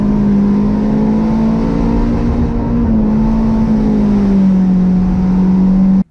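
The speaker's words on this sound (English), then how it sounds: "you could hear when I'm changing gears, that's a torque converter, like it was really slipping" Automatic Honda Integra or Civic engine droning loudly at high revs on a track, a steady tone drifting and dropping as the slipping torque converter shifts gears, cutting off abruptly.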